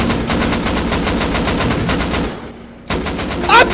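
Rapid bursts of AK rifle fire in the survival game Rust ring out loud and close in a steady automatic rhythm for a couple of seconds, then stop, with a brief clatter near the end.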